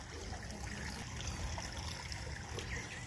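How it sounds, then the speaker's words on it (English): Running water trickling and splashing through a multi-layered zoo exhibit, a soft continuous burble heard up close and alone, fairly faint. "This is a pretty nice exhibit, multi-layered with running water."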